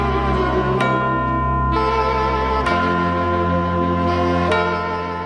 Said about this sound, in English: This is Auld Lang Syne, a song that represents the emotional conclusion to another year.